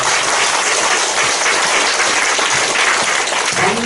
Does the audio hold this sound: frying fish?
no